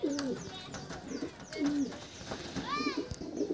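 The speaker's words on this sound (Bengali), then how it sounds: "পায়রাগুলো কিন্তু প্রচুর ছটপটে, সব পায়রাই ছটপটে দেখেছো" Dhille pigeons kept for sale coo nearby in low repeated rolling calls, with small chirps and light rustling, while a voice talks over them.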